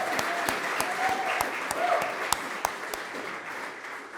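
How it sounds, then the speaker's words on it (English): Audience applause at a formal event welcoming Kenya's President William Ruto, a steady dense patter of many hands over about four seconds with a few sharper claps standing out, fairly distant and moderate in level. "Please clap for yourselves as well."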